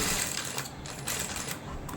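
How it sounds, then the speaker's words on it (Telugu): A sewing machine running steadily as it stitches a three-layer dress, a close, continuous mechanical whir with faint rhythmic pulsing, no voices. "నీట్గా దీన్ని ఇలా పట్టుకొని ఇలా స్టిచ్ చేస్తాం."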